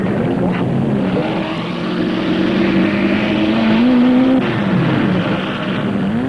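Sports racing cars lapping Brands Hatch circuit during the 1967 BOAC 500, engines droning loudly and steadily with a rising and falling pitch as they pass, no voices.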